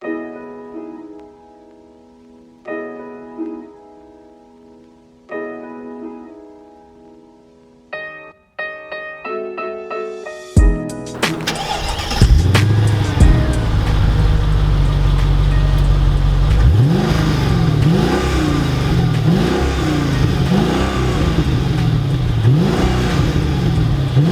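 A Mercedes E55 AMG sedan engine cranks over with a few starter bursts, catches with a sharp roar, then revs repeatedly in rising and falling swells, loud and close.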